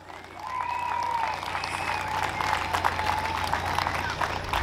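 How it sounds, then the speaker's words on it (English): A crowd at the Moparty car show breaks into sustained applause and cheering around a General Lee Dodge Charger, a loud, dense wash of clapping that swells and holds. "Let's give him a big round of applause"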